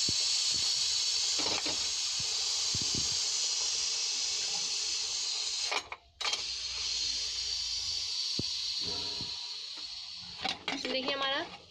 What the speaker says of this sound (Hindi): हम प्रेशर निकाल रहे हैं सब्जी का।